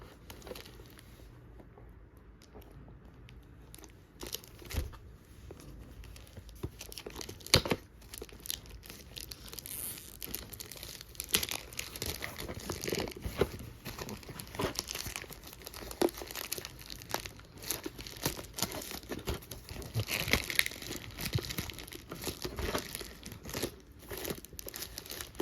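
RhinoShield phone case packaging being opened: continuous close crinkling and rustling of plastic and cardboard, with occasional tearing and sharper crackles, fairly quiet throughout.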